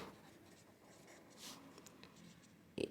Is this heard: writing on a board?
yes